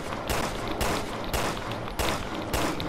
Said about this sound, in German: Ach, Schüsse.